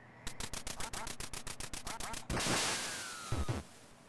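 Ducks quack in the NES game Duck Hunt: a rapid run of about a dozen electronic quacks, then a falling tone and a closing blip.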